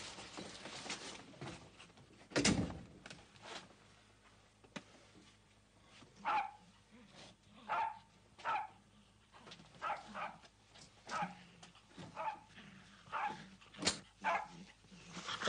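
A dog aboard a Polish submarine in an old 1958 film barks repeatedly in short yaps and whimpers, moderately close, with irregular bursts spread across the scene over a low background hum.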